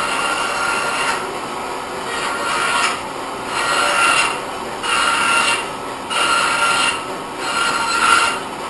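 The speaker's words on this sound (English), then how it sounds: "Got a piece of hardwood flooring here. Just gonna cut it a few times." A saw cuts through a piece of hardwood flooring several times, each pass a rasping, grinding burst of about a second. The bursts are separated by short, quieter gaps and come from close by.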